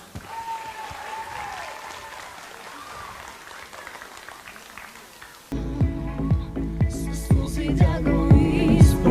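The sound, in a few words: audience applause at charity event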